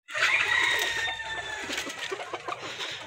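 Sonali chickens gathered around rice feed, one crowing loudly up close at the start, followed by steady overlapping clucks and pecking noises.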